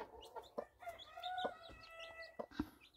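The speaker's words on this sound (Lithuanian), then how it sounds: "Einu pažiūrėti, kaip višta su mažuliukais viščiukais." A hen clucks softly with her newly hatched chicks, short low clucks mixed with thin high peeping from the chicks, fairly quiet and close.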